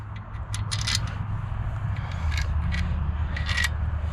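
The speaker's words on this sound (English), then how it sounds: "Gonna just move these bolts over so we know where they go." Alternator bolts from a Dodge Caravan or Chrysler Town and Country being shifted across a workbench, giving scattered light metallic clicks and scrapes over a steady low hum nearby.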